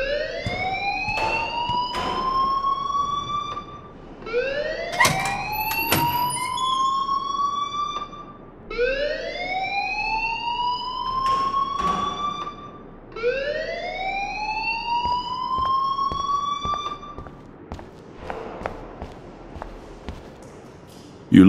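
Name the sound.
school alarm sounding in video game Life is Strange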